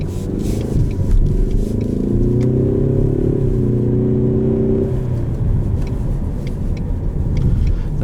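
A 2020 Ford Mustang EcoBoost Premium automatic accelerating on the street, its engine note rising and holding steady as a loud, continuous drone close by for several seconds, with no voices.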